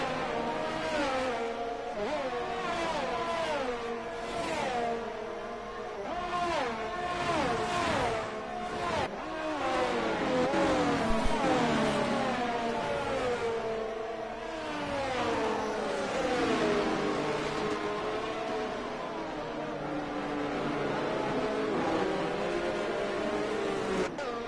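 Onboard engine of an Alpine race car in a racing video game at Silverstone, its note climbing and dropping through repeated gear changes and revs, with a second car's whine weaving nearby during an overtaking attempt.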